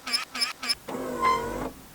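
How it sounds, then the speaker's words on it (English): Pop-up headlights on a Toyota MR2 mk1 AW11 raise with a close electric motor whir lasting about a second, preceded by three short, evenly spaced tonal chirps. "And of course, it has pop-up headlights"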